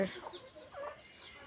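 Backyard chickens and ducks give faint, brief clucking calls, quiet and somewhat distant, over a low background.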